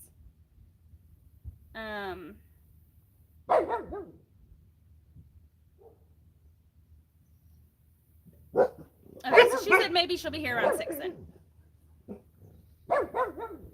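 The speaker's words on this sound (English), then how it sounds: "Sorry about all the dogs" Dogs bark in short bursts at a middle distance, with a high whine early on, while a person speaks quietly in between.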